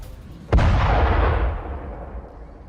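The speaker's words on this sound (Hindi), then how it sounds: "रात के वक्त बेका घाटी में भीषण बमबारी हुई है" A single heavy blast from an Israeli airstrike bombing southern Lebanon hits with a sudden sharp onset, then a long, low rumbling roar decays over about two seconds, loud and without any voices.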